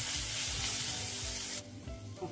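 Cumin and turmeric sizzle loudly in hot oil in a pan as they are stirred together. The steady frying hiss cuts off sharply partway through, leaving a quieter, softer crackle.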